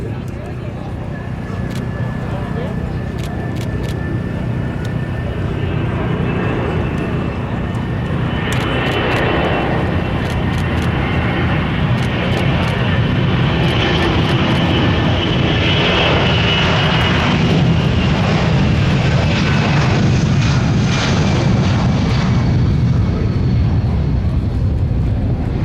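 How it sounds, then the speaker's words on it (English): A C-32 jet on its takeoff roll at the Andrews Air Force Base air show, a loud, steady engine roar that builds and holds throughout, with a public-address voice and crowd sounds mixed underneath. "On the takeoff roll, from your right, ladies and gentlemen, the C-32."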